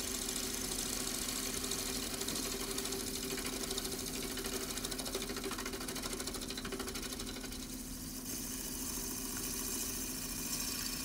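A wood lathe spinning a vase blank of unidentified wood while it is rounded and shaped: a steady continuous motor hum with rapid rhythmic chatter from the turning, close and unbroken, with no talk.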